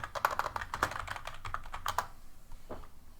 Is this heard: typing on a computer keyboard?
yes